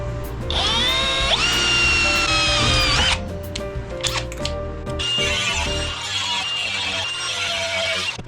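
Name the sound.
drilling a hole in a pole for a screw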